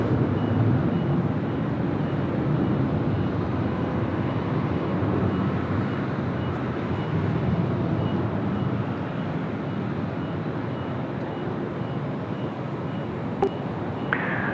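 An Air Canada airliner departing Sydney Airport for Vancouver, heard as a steady, broad jet roar that holds at a constant loud level throughout, with a brief click near the end.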